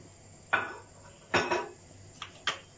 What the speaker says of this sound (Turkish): Onları yavaşça karıştırayım ki dağılmasınlar.